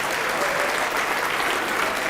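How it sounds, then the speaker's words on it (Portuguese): A church congregation applauds at a televised evangelical service, with dense, continuous clapping from a large crowd that stays steady and loud throughout. "vamos aplaudir mais ao nome de Jesus"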